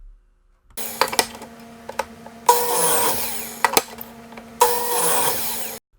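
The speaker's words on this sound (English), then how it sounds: "I then used my Craig Foreman to put pocket holes in both ends and both sides of the 2x4" A Kreg Foreman pocket hole machine drilling into a 2x4 makes loud whirring bursts, three separate runs with sharp clunks and clicks between them, close up and with no voices.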